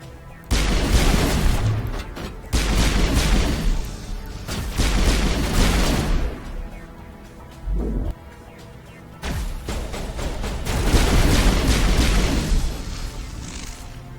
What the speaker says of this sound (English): So now we're going to fight through Geth to get to where Saren is gone now